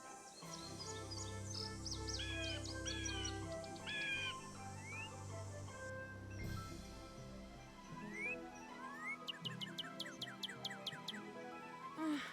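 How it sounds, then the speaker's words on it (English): A hawk cries in the Nancy Drew adventure game, with sharp descending screeches that recur over a steady backdrop of game music and chirpy bird ambience. "I heard the hawk."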